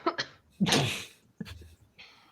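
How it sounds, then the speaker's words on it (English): Two quick sharp intakes lead into a loud, breathy sneeze up close, followed by a short snort and a fainter exhale. "Sorry, sneezed."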